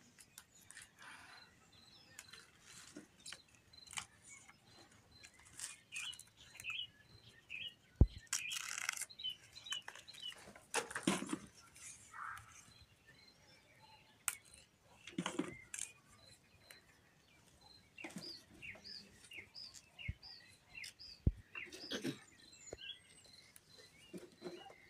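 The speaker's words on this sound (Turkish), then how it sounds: "Akşam akşam kuş sesleri ne güzel çıkıyor." Birds chirp and tweet in short repeated calls in a garden in the evening, faint and somewhat distant, with occasional taps and rustles in a quiet setting.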